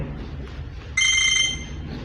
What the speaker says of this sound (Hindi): इस फ़ोन के अंदर ये सिर्फ 3 रिंगटोन आपको मिलने वाली हैं।